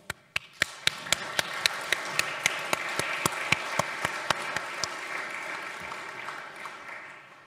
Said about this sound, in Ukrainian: І я хочу цей уклін і оплески адресувати вам і всім естонцям